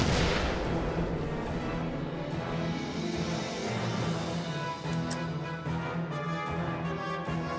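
In the Valkyria Chronicles video game, heavy artillery support fire rumbles in a dense, continuous barrage of booms and blasts, loud and sustained throughout without talk.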